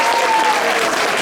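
Brief, steady burst of audience applause, loud and dense throughout with no pauses, at a town crier's event in Vézénobres.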